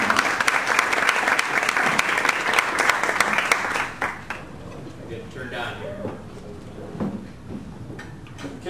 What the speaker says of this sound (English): So please give a warm round of applause to Brandon Chestnut